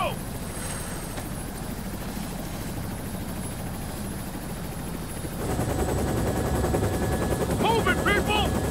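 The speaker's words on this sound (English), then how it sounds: "We've got choppers inbound to pick you up." A helicopter in the video game Ghost Recon Future Soldier drones steadily throughout, growing louder halfway through, with gunfire and voices heard over the rotor noise.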